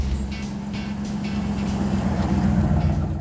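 The Rod & Custom Dream Truck, a custom build by Barris Kustoms, is being driven. A steady low engine rumble and road noise continue throughout, loud and close.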